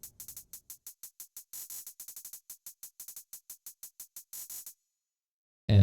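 Crisp electronic hi-hats in a harsh drift phonk beat tick in a fast repetitive pattern, with quick rolled bursts breaking up the steady run, then the pattern cuts out before a sudden loud low thump at the end.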